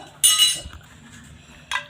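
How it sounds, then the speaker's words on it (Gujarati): Ice cubes are dropped into spiced pani puri water in a kitchen, giving two bright clinking bursts a little over a second apart, close and clear. "આપણે આ બરફ નાખ્યો છે અંદર, એકદમ ઠંડુ થઈ જશે મસ્ત પાણી."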